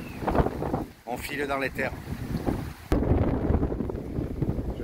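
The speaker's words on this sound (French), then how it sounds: "Énormément de vent, le sable qui se lève" Strong wind gusting and lifting sand during a storm in the countryside near the Mazarrón mines, roaring steadily close to the microphone with buffeting, while a person speaks over it.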